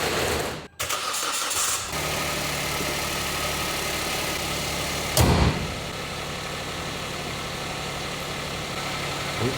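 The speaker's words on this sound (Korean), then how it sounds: "잠깐만 시동을 걸고 해볼까?" A car engine cranks and catches, then settles into a steady, even idle close by, with a short bump in loudness midway and no talking.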